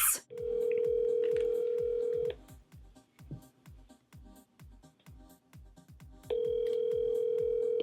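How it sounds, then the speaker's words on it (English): Phone ringback tone during an outgoing call, two long steady tones separated by a pause, fairly quiet, with soft tapping and faint background noise between rings. "You let the phone ring like 5 times."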